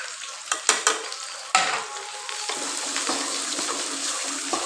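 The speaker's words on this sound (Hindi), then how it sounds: "यहाँ पे मेरी भिंडी भी फ्राई हो चुकी है" Okra frying in a pan gives a soft, steady sizzle after a few sharp clatters and knocks near the start, with no speech.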